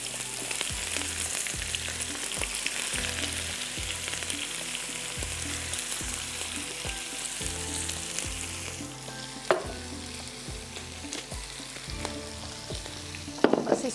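Okra (bhindi) with curry leaves, cumin, red chilli, salt and garlic frying over high flame, a constant close sizzle with a low rhythmic burner hum and occasional sharp utensil knocks, no talking.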